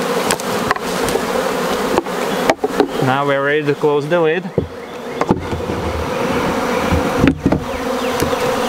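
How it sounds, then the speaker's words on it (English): Honeybees buzz around a hive box in a dense, continuous drone, with a louder close buzz partway through and a few knocks on the box, while a person talks over them. "All of the bees are agitated, but you will see them congregating around the entrance just within 5 to 10 minutes"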